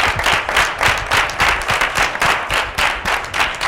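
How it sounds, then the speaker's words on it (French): An audience claps steadily in a hall after a youth cultural-day discussion, with dense, even applause and no talk. "Nous allons te raccompagner sous des applaudissements"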